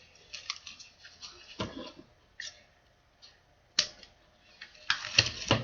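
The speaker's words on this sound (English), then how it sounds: "Let me cut off this strings." Scissors snipping loose strings off a handmade ribbon wall hanger, with several sharp close clicks and crisp cuts scattered irregularly over quiet, with a louder cluster of snips at the end.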